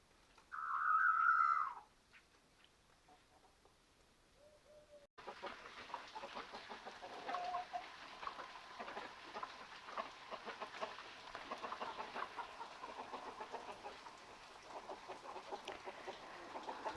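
A brief burst of chickens clucking near the start, then steady rain patter on a rainy morning fills the rest with scattered faint sounds.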